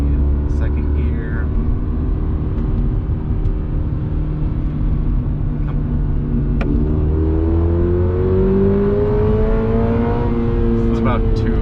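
A 2022 Subaru BRZ engine pulls hard in second gear, a loud steady drone that climbs in pitch as the car accelerates, heard from inside the cabin.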